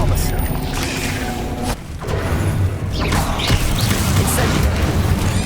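An Expelliarmus disarming spell cast in Hogwarts Legacy bursts out in a dense, loud wash of magical whooshes and booming impacts over continuous game ambience and music, with a brief dip before the roar resumes.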